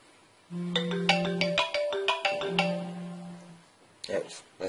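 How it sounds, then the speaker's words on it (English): A phone ringtone plays a bright melodic sequence of beeping tones up close, followed by a few brief clicks and a short burst of other sound. "Oops, that's my phone."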